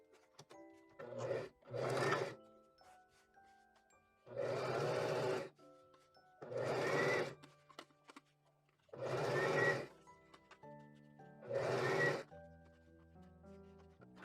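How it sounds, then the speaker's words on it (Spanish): Sewing machine stitching a second seam a few millimetres from the previous one along a fold turned toward the lining of a strappy dress top, in five separate bursts of steady close whirring with short quiet pauses between them. "pasamos una costura a unos milímetros de la costura anterior"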